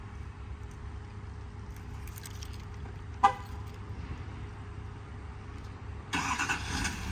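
Remote start of a 2016 Chevrolet 3500HD crew cab 4WD diesel truck: a short horn chirp sounds midway, then the diesel engine fires and settles into a steady, moderately loud rumble at the end.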